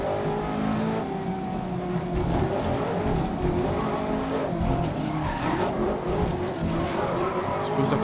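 A race car in GRID 2019 career mode roars through a lap, the engine revving and changing pitch steadily while tyres squeal and skid through the corners, loud and continuous.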